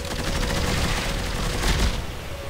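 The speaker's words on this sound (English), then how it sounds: "Now this is a plasma rifle." Rapid plasma rifle fire in the sci-fi horror game Dead Space 3 sounds as a loud, dense fusillade of continuous bursts over a steady tonal hum, close and sustained throughout.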